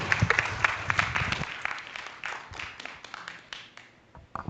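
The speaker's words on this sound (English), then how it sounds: "please give my esteemed panel a warm round of applause" An audience at a cyber resilience panel session claps for the panelists, a loud, dense burst of applause that gradually thins into scattered claps and trails off near the end.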